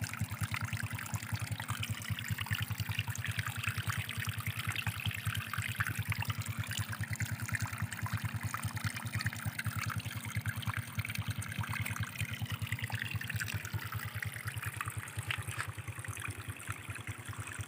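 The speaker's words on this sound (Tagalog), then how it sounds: "May bukal pala oh." Water from a natural spring pours and gurgles in a steady, close stream that runs without a break, with no talk over it.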